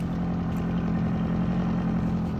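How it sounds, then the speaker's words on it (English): A Yamaha 50 outboard cruising engine on a pontoon boat runs steadily just after starting, a loud, even low rumble with a constant hum and no pauses. "You may hear the engine going right now on the first try."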